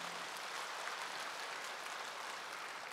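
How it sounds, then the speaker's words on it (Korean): A church congregation applauds visiting missionaries during a Wednesday morning worship service. Steady, even clapping from many hands fills the room for about three seconds, with no break. "잠깐 일어나실 때 우리 박수해 주시기 바랍니다"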